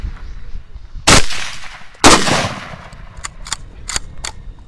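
Two loud, sharp gunshots during a hog hunt, about a second apart, each with a trailing boom, followed by a few fainter clicks and knocks.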